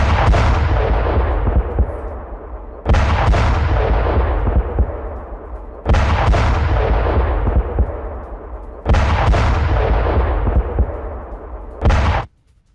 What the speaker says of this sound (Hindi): राजधानी कीव में स्कैंडर बैलिस्टिक मिसाइल से कैसे इस हमले को अंजाम दिया गया